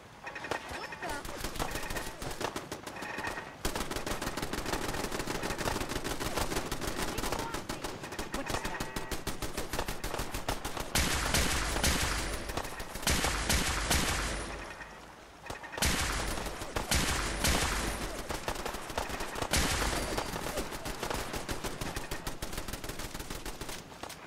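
Rapid bursts of gunfire ring out in Fallout 4 survival mode, loud and dense for most of the stretch, with brief pauses between volleys and occasional voices under the shooting.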